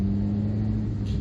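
The 1.1-litre engine of a 2004 Citroen C3 hums at a steady low pitch from inside the cabin, a constant rumbling drone while driving modestly.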